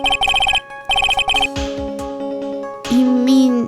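A cell phone rings in the Phoenix Wright: Ace Attorney courtroom game, two bursts of a bright trilling ringtone followed by quieter game tones and a final warbling electronic chime, close and loud.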